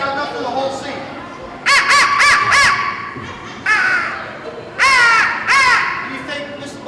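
A handheld crow call is blown in loud, close bursts of rapid caws, first a quick run of four, then a single caw, then two more, imitating a crow. Faint murmuring sits underneath between the calls.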